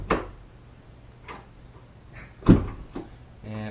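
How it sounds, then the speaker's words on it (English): A Ford Escape front door latch locks and unlocks in several separate mechanical clunks and clicks spread over a few seconds, the loudest near the end, followed by a short buzzing whir. "Let's lock it. Can't get in. Unlock it, and it works just fine."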